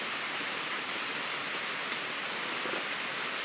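Heavy rain pours steadily on a rural garden plot planted with pechay and banana trees, a dense, loud, unbroken hiss with no voices.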